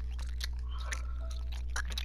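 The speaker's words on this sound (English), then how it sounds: "Can you hear me chewing?" Close, wet chewing of a Starburst candy, with irregular sticky smacks and squelches spread across a couple of seconds over a steady low hum.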